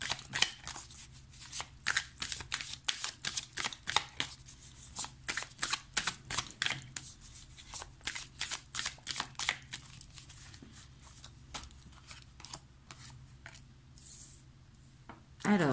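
A tarot deck being shuffled over and over, the cards riffling and snapping in quick, uneven bursts with short pauses between them. The sound is close and crisp, with soft rustling filling the gaps and no speech.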